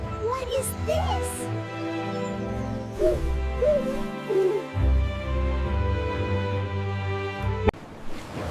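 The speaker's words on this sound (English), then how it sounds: "It's a snowy owl." A snowy owl hoots in a short series of low, soft calls at moderate volume, with a steady background hum beneath.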